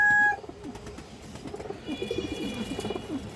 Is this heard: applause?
no